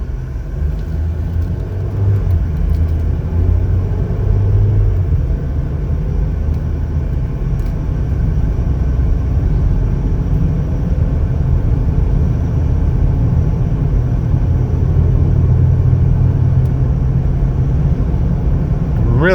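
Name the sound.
2020 Chevrolet Equinox LT driving on test drive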